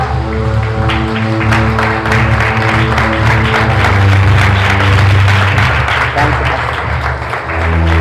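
A church congregation in Mumbai claps loudly and continuously during a worship service, a thick wash of applause sustained over a steady musical backing for several seconds.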